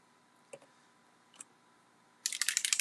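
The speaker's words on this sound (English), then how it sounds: "I'm going to go ahead and spritz that with a little water" A plastic spray bottle spritzes water onto watercolor paper in a quick burst of several crisp, hissing sprays close up, after a couple of faint clicks and handling sounds.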